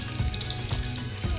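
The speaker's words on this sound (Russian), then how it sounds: "У нас трещит масло." Battered shrimp frying in hot oil for a Chinese sweet-and-sour dish, a loud, dense crackle and sizzle that runs continuously and close up, with no voices over it.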